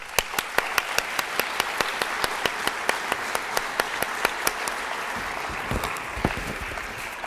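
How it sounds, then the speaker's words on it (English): Audience applause for the mentors at the OK Program Awards Ceremony 2018, with broad steady clapping running through the whole stretch and sharp individual claps standing out in a regular rhythm near the front. "they need a round of applause"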